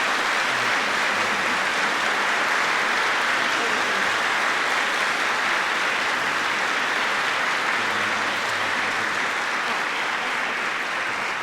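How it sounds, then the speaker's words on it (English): Audience at an award ceremony for diversity and excellence awards applauding, a dense, steady wash of clapping that stays loud and even from start to finish, with no voices rising above it. "if we could have a round of applause for Holly."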